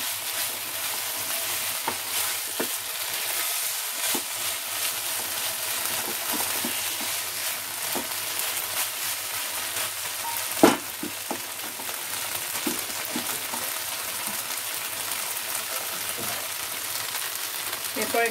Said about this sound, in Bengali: ফুলকপিটা দিয়ে খুব ভালো করে কষিয়ে নিতে হবে